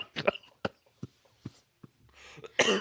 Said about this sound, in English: I can't with this cough